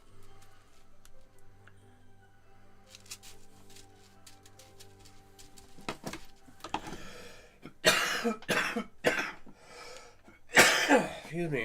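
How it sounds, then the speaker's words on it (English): One person coughs in a few harsh, close bursts near the end, after a quieter stretch of faint ticking and soft background tones. "I know nobody wants to sit here and listen to me cough"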